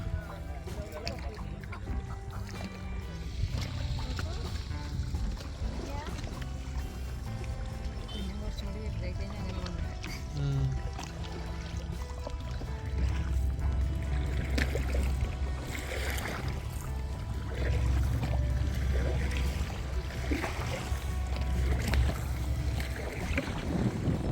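A coracle ride on the water at Pullu paadam in Thrissur, with continuous lapping, splashing and paddle strokes mixed with wind buffeting the microphone and voices nearby.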